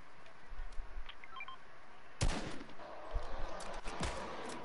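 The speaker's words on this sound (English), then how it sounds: "Yeah, I'm getting shot at." Scattered gunfire crackles in a shooter video game, a few sharp loud shots standing out after a quieter stretch with faint beeps, followed by lighter distant pops.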